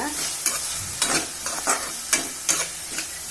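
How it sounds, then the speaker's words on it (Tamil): Tomatoes stirred and frying in a pan for an ground-paste chickpea (sundal) kuzhambu, with steady sizzling broken by repeated scraping stir strokes, close and fairly loud, no talking. "நல்லா இதை மிக்ஸ் பண்ணிக்கோங்க."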